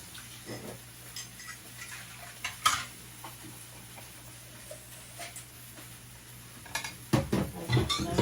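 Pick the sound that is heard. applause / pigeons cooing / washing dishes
washing dishes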